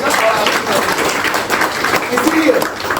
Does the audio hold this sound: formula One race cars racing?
no